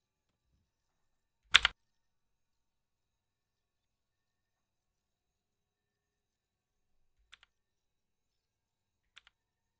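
Sparse computer keyboard keystrokes: one sharp clattering burst of keys, then long silence broken by two faint, isolated clicks.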